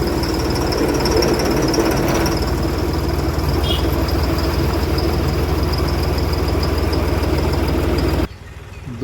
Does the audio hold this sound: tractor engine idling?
yes